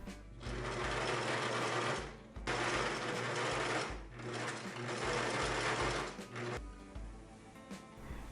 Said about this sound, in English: Sew the other sides of the waistbands together as well.